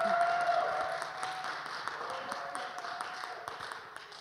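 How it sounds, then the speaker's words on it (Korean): A handful of people seated at the front of a church youth gathering give a short burst of scattered clapping. It is faint and thin, and it slowly fades over a few seconds. "여기 앞에 우리 몇 명 앉았는데 박수라도 한번 치시죠"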